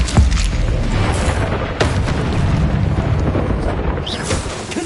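Repeated fiery spell blasts of Confringo in the Hogwarts Legacy game, heavy booming bursts rolling over a constant loud roar, with sharp cracks at the start and near the two-second mark.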